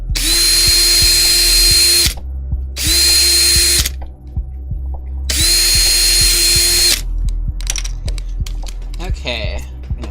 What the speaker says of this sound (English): Oh wait, I'm not supposed to talk when I'm drilling.